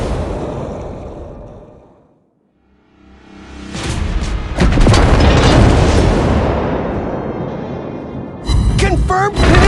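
Secondary guns on a World of Warships Blitz cruiser fire SAP shells in loud booming blasts with long rumbling tails, followed by a flurry of sharper crackling shots near the end.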